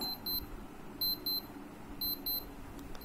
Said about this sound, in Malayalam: ഇതിന്റെ അകത്ത് അലാറം അടിക്കുന്നുണ്ട്